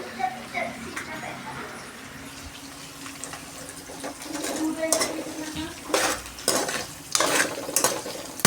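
Rice stirred and fried with turmeric and salt in a pan, giving a soft sizzle with scraping and clinking of the utensil against the pan, getting louder toward the end while someone talks over it.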